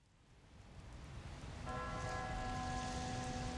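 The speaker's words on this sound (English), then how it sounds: "struck the old bell hanging in the gallery" An old lighthouse bell hanging in the gallery is struck once, its ringing tone rising clearly over a steady background wash and sustaining to the end.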